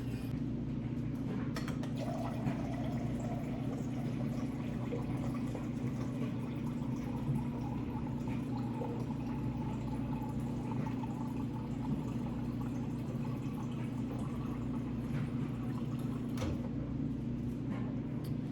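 Filtered lukewarm water poured from a measuring cup into a beaker for brine, a long, steady, fairly faint trickling and splashing over a low background hum.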